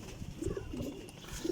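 Pigeon cooing amid general bird noise where Sialkoti flying pigeons are being shown, a soft low murmuring coo repeated a few times over a steady, fairly quiet background.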